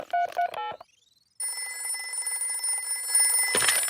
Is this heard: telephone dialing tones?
yes